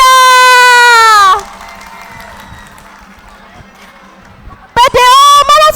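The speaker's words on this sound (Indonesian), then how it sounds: "Beri tepuk tangan." An audience at a junior high school student council candidate debate at MTsN 1 Kota Kediri claps and cheers for a candidate, a steady rush of applause lasting a few seconds between bursts of a loud announcer's voice.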